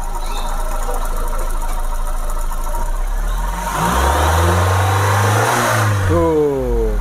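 A car engine, recently washed, idles and then revs up strongly in a close, loud run, rising and falling as the throttle is blipped.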